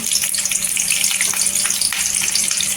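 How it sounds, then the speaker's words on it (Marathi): Chopped green chilies sauté in hot oil while making murmura chiwda, a loud, continuous close-up sizzle with faint stirring and no voices. "इथे हिरवी मिरची कट केलेली आहे ती पण तेलावर परतून घ्यायची"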